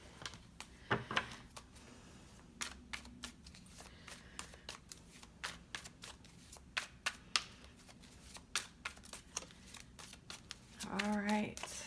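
Tarot cards being shuffled by hand, a long run of quick crisp riffling clicks and flutters, close and fairly quiet, with a brief voice near the end.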